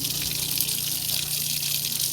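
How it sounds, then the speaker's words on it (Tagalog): Strong rushing water pours steadily and loudly outdoors near Nasipit, a continuous broad gushing roar with no breaks. "Napakalakas ng tubig."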